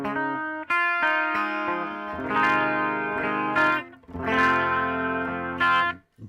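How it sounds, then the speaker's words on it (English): An electric guitar through a Line 6 Pod Express plays chords and sustained notes with a shimmering, swirling chorus effect, ringing clearly on its own. "I'm going to add just a little bit of chorus here so we get this."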